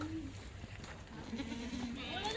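Goats kept for sale bleat amid a busy, noisy livestock setting, with a wavering bleat rising near the end over steady background chatter and crowd noise.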